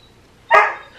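A small dog lets out a single short, close whine or yelp that rises and fades within half a second against a quiet room.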